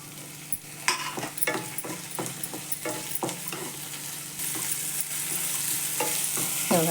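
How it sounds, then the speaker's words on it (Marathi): Vegetables such as carrot, peas and tomato being sautéed in a pan, a steady frying sizzle under frequent sharp scrapes and taps of a spatula stirring, close and moderately loud, the sizzle growing fuller toward the end. "त्यात परतू देते चांगलं"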